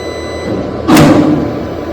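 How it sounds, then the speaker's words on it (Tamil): A Monarch 1000 mono-drive lift motor kicks in with a sudden loud whoosh and hum midway through a low mechanical drone, then settles into a steady running sound as the lift begins moving. "சேம் மோட்டாரில் சவுண்டு வரும். அதுக்கப்புறம் லிஃப்ட் மூவ் ஆகும்."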